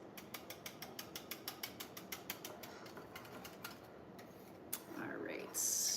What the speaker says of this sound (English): Trying to just get this whisked in so there aren't many chunks.